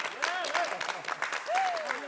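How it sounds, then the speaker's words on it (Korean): Applause from a school audience after a student's talk, a steady wash of clapping with voices speaking over it throughout. "오늘 정말 박수를 정말 힘껏 쳐주고 싶습니다"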